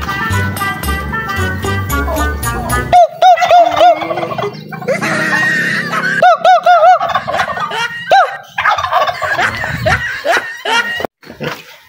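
A turkey gobbles in several rapid warbling bursts close by during a family outing, mixed with people chatting and laughing in the background.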